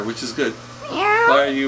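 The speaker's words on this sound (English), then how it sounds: "that was a cat saying yes" A house cat gives two short chirpy meows and then a longer, rising drawn-out meow close by, overlapping with people talking.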